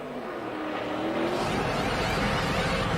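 Mark Martin's NASCAR stock car at the Brickyard roars in loudly for a pit stop, a broad engine drone building and swelling as it draws near.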